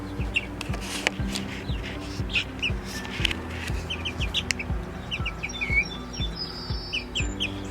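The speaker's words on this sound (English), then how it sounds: "so let's check on these chickens" Chickens in a backyard coop give repeated short clucks and chirps at close range, with occasional bird calls scattered over an ongoing low rumble of background activity and soft handling noises.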